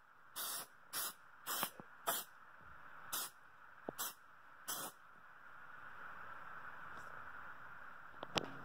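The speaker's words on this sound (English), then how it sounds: "We're just gonna spray it on the walls and over the clay." Short bursts of aerosol mold release sprayed onto a clay sculpture and mold walls, about seven quick hisses in an irregular rhythm, close and fairly quiet, then a steady low background hiss.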